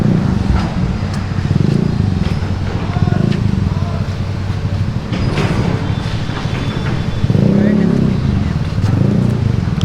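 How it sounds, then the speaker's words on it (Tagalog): A motorcycle passes behind on a street, its engine a steady low drone that swells near the end over a rumble of traffic, with voices in the background. "May motor sa likod."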